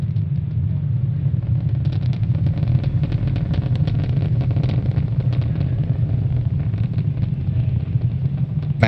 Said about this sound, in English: we just throttled down the 9 Merlin 1D engines in preparation for the next event